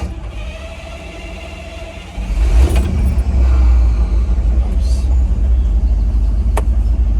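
An old vehicle with vacuum-assisted hydrostatic brakes cranks and catches, its engine rising into a loud, steady low rumble that keeps running close by, with a sharp click partway through.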